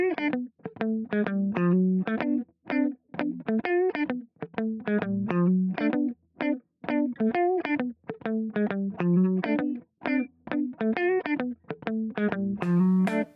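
Distorted electric guitar with chorus effect plays a gospel quartet groove, choppy rhythmic chord stabs and short bass runs in a steady, syncopated pattern, fairly quiet and heard alone.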